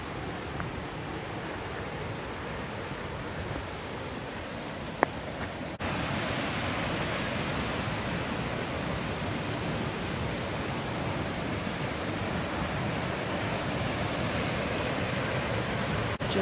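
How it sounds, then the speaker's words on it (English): Decew Falls roars as a constant, dense rush of falling water, broadband and steady, growing slightly louder partway through as the falls are approached, with no talking. "So we're coming back to the main falls."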